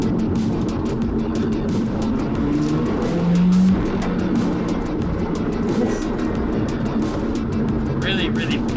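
Mazda RX7 Bathurst Type R race car driving at medium to high speed, with a steady loud engine drone throughout and a brief higher tone near the middle, heard alongside a speaking voice.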